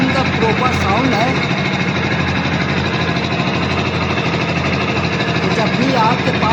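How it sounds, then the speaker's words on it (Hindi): Steady idle of a BS6 fuel-injected motorcycle, close up, with an even, rapid mechanical patter and faint ticking that runs unchanged from start to finish. "अब इसका इंजन का प्रॉपर साउंड है।"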